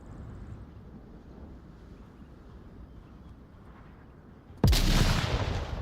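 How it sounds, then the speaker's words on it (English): A grenade detonates in the Onward VR shooter, a single sudden loud blast with a heavy low thump and sustained roaring debris that follows a stretch of low ambient rumble. "What a beautiful grenade."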